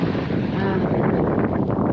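Sailboat running fast under spinnaker on an Atlantic crossing, a constant roar of wind buffeting the microphone mixed with rushing water, loud and close for the whole stretch.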